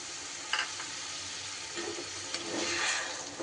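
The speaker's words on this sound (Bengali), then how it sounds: "এবার আমি মশলার বাটি ধোয়া জল একটু দিয়ে দেব।" Spice-bowl rinse water poured into a frying paste of melon seeds, poppy seeds and green chillies, giving a loud close sizzle with a quick splash and stirring scrapes, steady and without talking.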